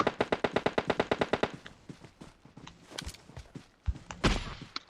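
Rapid automatic gunfire in the mobile battle royale game PUBG Mobile: a steady burst of about fourteen loud shots over the first second and a half, followed by scattered single shots, thuds and footsteps.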